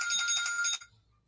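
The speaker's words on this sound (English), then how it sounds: "That's my alarm for my show tonight." A phone alarm rings in a short burst of bright, pulsing electronic tones that stops abruptly, leaving quiet room tone.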